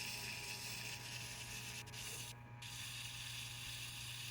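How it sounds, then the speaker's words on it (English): Sandpaper rubbed against the spinning idler wheel of a turntable during a stereo restoration, a steady, faint, close scraping hiss over a constant motor hum, with one short break near the middle. "you can sandpaper it"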